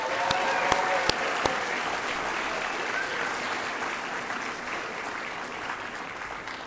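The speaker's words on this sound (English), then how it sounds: "How about a big round of applause?" An audience at a university chemical and biomolecular engineering graduation ceremony breaks into sustained applause, a few sharp individual claps standing out early before the clapping gradually tapers.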